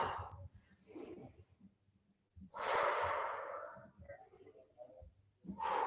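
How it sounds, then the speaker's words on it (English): A person exhales deeply during a guided exercise session, with several audible breaths and one long, forceful breath out in the middle, heard close and alone without talk. "Big breath in as we lower and breath out."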